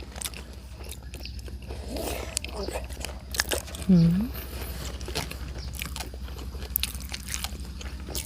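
Someone bites into a crunchy Vietnamese balut duck egg eaten with papaya salad, with a few close, brief crunching and chewing sounds under ongoing talk and a murmured hum.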